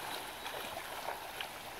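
Flowing creek water at a shallow riffle during a field trip: a faint, steady babbling and splashing, close by, with no talk.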